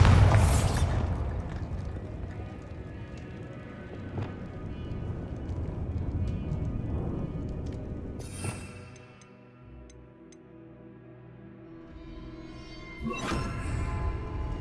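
Bombarda explosion spell cast in Hogwarts Legacy, with several booming blasts spaced apart over a bed of game ambience, two of the bursts sharp and loud.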